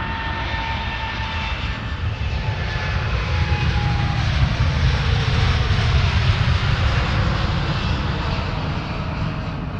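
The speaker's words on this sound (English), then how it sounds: "The Virgin 787 first. Dreamliner on its way to Bridgetown." A Virgin Boeing 787 Dreamliner takes off from Manchester Airport bound for Bridgetown, giving a loud, continuous jet roar with a rumbling low end that swells slightly, then holds steady throughout.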